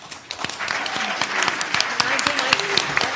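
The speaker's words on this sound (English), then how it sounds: "Please help me with a round of applause." An audience at a community forum on women leaders gives a round of applause, clapping that builds quickly and holds steady with sharp individual claps, and some voices mixed in.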